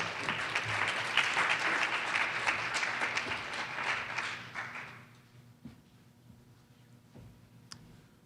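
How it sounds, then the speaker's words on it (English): Conference audience applauding, a dense burst of clapping that lasts about five seconds before fading into a quiet room with a few stray claps and clicks. "Let's have applause for Jamell."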